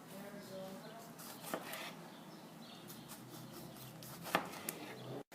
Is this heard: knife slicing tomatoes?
yes